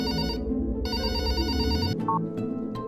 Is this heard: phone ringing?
yes